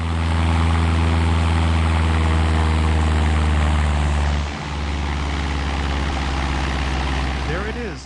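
A light aircraft's propeller engine in the FlyWings 2026 flight simulator game, throttled back to about 1700 RPM, drones steadily and loudly with a strong low hum that dips briefly midway, then settles at a slightly lower level.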